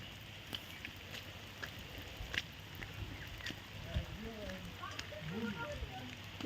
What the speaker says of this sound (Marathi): पण आता सध्या पाऊस चालू आहे